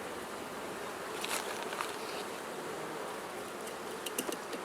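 Honey bees buzz softly at a hive during a sugar-roll mite count, a faint continuous insect hum with a few brief louder passes of individual bees close by.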